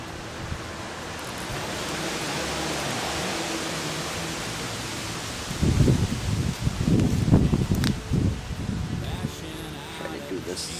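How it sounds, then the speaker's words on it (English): Heavy wind in western New York buffets an old camera's microphone with a steady roaring rush, swelling into louder rumbling gusts midway before easing back to a constant blustery hiss. "Got an extremely windy day here in western New York, so I cut in and out."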